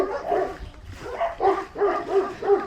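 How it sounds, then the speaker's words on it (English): Several dogs barking at each other in quick, repeated bursts, fairly close and loud, with a few higher yips mixed in. "But what are they barking at? I think they're barking at each other."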